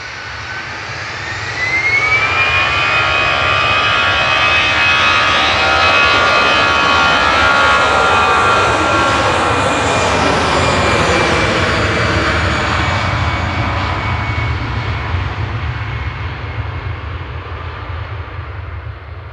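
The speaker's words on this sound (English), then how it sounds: "Aer Lingus Flight 203 back to Dublin, EIDVM in their retro livery." An Aer Lingus jet in retro livery takes off from Manchester Airport bound for Dublin, its engine roar rising quickly and holding loud and steady, with a high rising whine over a broad rumble that slowly fades toward the end.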